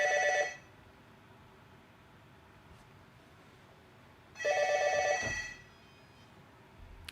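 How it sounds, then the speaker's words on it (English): A hotel room telephone rings in two electronic bursts, one at the very start and another about four seconds later, each a bright trilling tone with a quiet room in between. "If you hear the phone ringing"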